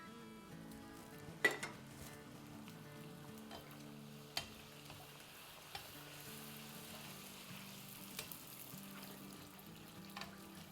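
Kachori frying in hot oil, a quiet continuous sizzle with occasional sharp clinks and taps of utensils against the pan, the bubbling soft and close throughout.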